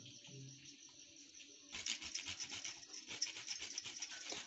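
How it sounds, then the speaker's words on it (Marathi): Nutmeg is rasped over halwa in short, quiet scraping strokes, a soft rhythmic grating that grows busier halfway through, with no voices. "हे जायफळ आहे, हे थोडंसं किसून टाकते त्याच्यावर"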